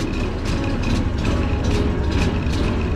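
A hard-starting Easyride 150N motorcycle engine idles unevenly nearby, a steady rough, raspy rumble with slight pulsing and no voices.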